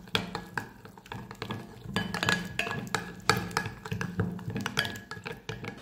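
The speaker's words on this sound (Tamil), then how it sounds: "இந்த தயிர் இந்த மசாலாவெல்லாம் நல்லா மிக்ஸ் பண்ணி எடுத்துக்கலாம்." Yogurt and masala being mixed together for a quail biryani marinade, with a spoon scraping and clinking against the bowl in a steady, uneven stirring rhythm, close and fairly quiet.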